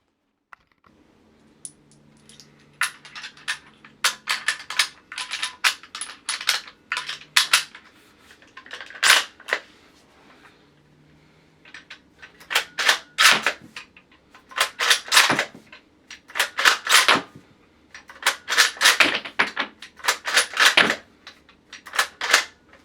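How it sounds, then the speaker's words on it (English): A gas-powered Double Bell Mauser Kar98k replica rifle has its bolt cycled repeatedly, with sharp metallic clacks, clicks and shell rattles in quick bursts and short pauses throughout, close and fairly loud, with no talking. "You get the full realistic cycle function when you cycle the bolt back and load a new shell."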